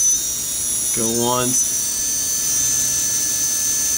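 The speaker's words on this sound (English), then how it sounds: "you see the motor, you hear the sound. The motor isn't stable." A quadcopter motor on a small Blackout Mini H quad build whines up briefly in a rising, wavering tone that lasts about half a second, over a steady high electronic hum, with a short spoken word nearby.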